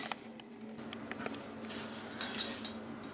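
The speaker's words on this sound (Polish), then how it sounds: "Będę obierać i kroić ziemniaczki." A knife scrapes and clicks against potatoes and a board while they are peeled and cut for a chicken breast bake, faint, close and irregular small scrapes and taps with no talk.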